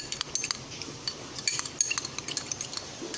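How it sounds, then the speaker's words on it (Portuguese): Utensil stirring beaten egg in a small pot meant for the microwave, a run of quick light scraping clinks and taps against the container, close and fairly quiet, with no talking. "E assim vai mexendo."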